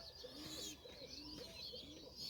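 A pigeon, a white breed, coos in soft repeated phrases at a steady rhythm, close but quiet, with faint chirps behind.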